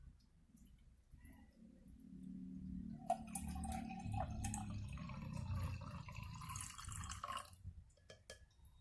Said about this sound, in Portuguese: 200 mililitros de água que eu vou adicionar aqui dentro